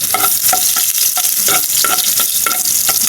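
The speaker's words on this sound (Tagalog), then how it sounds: "unang gigisahin po ni Tita Nini yung bawang" Garlic sautéing in a hot pan for a coconut-milk string bean dish: loud, close frying sizzle with repeated rhythmic scrapes of a utensil stirring roughly every half second, no voices.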